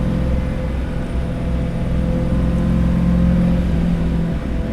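A 1974 Alfa Romeo GTV 2000 engine revving, a loud, steady droning engine note with a sustained tone that swells slightly in the middle, heard up close with no talking.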